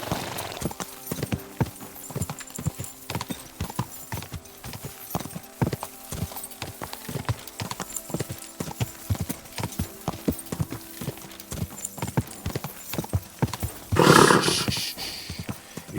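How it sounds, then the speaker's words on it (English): Horse in the medieval video game Kingdom Come: Deliverance II, steady clip-clop of hooves at a brisk walk, close and clear, with a sharp neigh near the end. "Easy, good horse."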